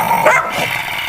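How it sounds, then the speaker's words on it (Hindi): A dog barks in a short, loud burst, one or two sharp yaps close by with a faint steady hum behind. "टॉमी उन पर भौंकने लगता है"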